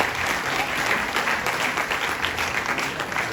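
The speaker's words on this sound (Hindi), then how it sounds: "तालियों में जोश नहीं है" Sustained audience applause at a foundation day celebration of a lawyers' association in Delhi, dense and even, filling the hall at close range with crowd murmur underneath.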